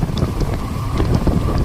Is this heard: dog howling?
no